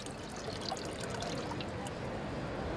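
Water tipped and trickling out of a handheld filter bottle outdoors, a soft steady splashing pour, faint and close.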